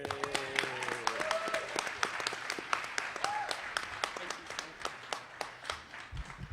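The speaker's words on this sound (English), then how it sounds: "we should give Reverend Sharpton another round of applause for his leadership." A crowd at a Saturday morning civil rights rally applauds with sustained clapping that thins toward the end, while a few voices call out faintly beneath it.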